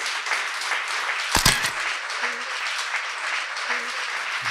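An indoor audience gives a dense round of applause that stays loud and steady throughout, with one brief sharp knock near the pan or floor partway through.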